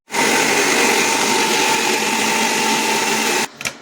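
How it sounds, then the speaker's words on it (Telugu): A kitchen mixer grinder runs loud and steady for about three seconds, whirring as it purees a tomato chutney mixture for pickle, then cuts off abruptly, leaving a short rattle. "టమాటా మిశ్రమాన్ని ఇలా ఒక మిక్సీ జార్లో తీసుకొని మిక్సీ పట్టుకోవాలి బాగా మెత్తగా"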